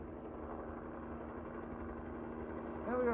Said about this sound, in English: A frickin' helicopter.